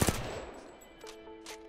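CAR SMG in Apex Legends firing a couple of sharp close shots at the start, followed by a quieter stretch with faint game tones and clicks.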